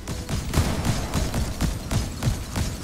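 Rapid gunfire in Fortnite, a steady rhythmic string of loud shots about three per second, close and continuous with no talking.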